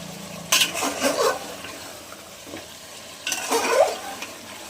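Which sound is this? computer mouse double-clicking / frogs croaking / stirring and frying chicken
stirring and frying chicken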